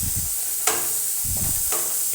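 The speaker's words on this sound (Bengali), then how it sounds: "মশলাটা একটু ভেজে নেব।" Spices with turmeric and curry leaves fry in a pan, giving a soft continuous sizzle with a few brief scraping stirs and one sharp tap, and no voices.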